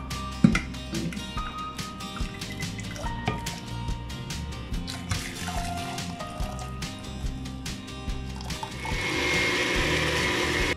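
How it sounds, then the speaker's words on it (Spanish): A kitchen blender whirs steadily as it purees guavas with piloncillo syrup, a churning, liquid grind that runs continuously and gets slightly louder and smoother near the end. "estas guayabas las vamos a poner aquí en nuestra licuadora"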